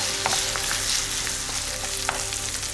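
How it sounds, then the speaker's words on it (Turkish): Minced beef with a spoonful of tomato paste sizzles steadily in a pan while being sautéed for bolognese sauce, with a constant close frying hiss and occasional light stirring clicks, no talking. "Bir çorba kaşığı domates salçasını ilave ediyoruz. 2-3 dakika daha kavuruyoruz."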